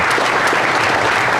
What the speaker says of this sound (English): let's give the Grubb family another round of